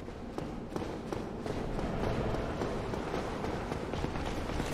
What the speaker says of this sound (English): I heard some footsteps.